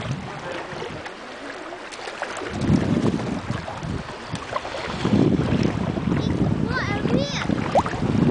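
Boats move on open water near Long Tail Island while a family swims, with gusty wind buffeting the microphone, a low motor rumble and lapping water, and voices talking nearby.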